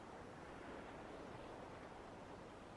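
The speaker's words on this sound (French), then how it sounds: "Au rythme des vagues, ta respiration ralentit doucement." Soft, steady ocean surf washes continuously at a low level, a broad even hiss of waves with no distinct breaks and no voices.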